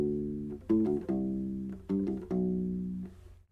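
A U-Bass plays a short fill of plucked notes, several distinct attacks each ringing out with warm low sustain, close and quiet with no talking.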